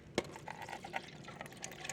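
Cold brew coffee is poured through a strainer, giving a soft trickling, splashing liquid sound with scattered little drips and gurgles, fairly quiet and close, with no talk over it.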